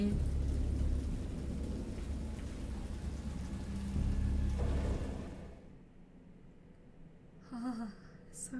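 Heavy rain pours in the Dagon game with rumbling thunder for about five seconds before cutting off abruptly, leaving near silence and a short voice at the end.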